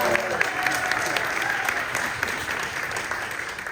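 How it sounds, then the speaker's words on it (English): An audience at a behind-the-scenes Country Bear Musical Jamboree event gives Kevin a big round of applause, a sustained, lively burst of clapping from a sizable crowd with faint voices mixed in. "Big round of applause for Kevin."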